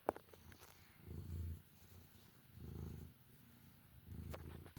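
A cat purrs very softly close by, each low rumbling purr swelling and fading over about a second in a slow repeating rhythm, with a couple of faint clicks.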